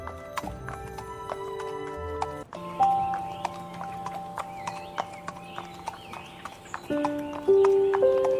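Cartoon-style horse hooves clip-clop in a steady rhythm as a general rides off on horseback, with a horse whinny and light musical tones over it, fairly close and clear with no talking.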